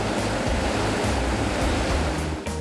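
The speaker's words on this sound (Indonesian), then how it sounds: "Gemercik air dari ratusan sungai mengalir membawa berkah kehidupan bagi seluruh ekosistem" Rushing water from rivers in Bukit Barisan Selatan National Park, Sumatra, a loud dense continuous roar of flowing water with slight surges, steady throughout and heard alone.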